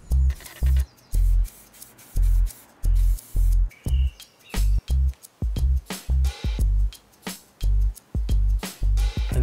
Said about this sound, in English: I'm first spraying a white base coat on it and then the pearlescent blue over it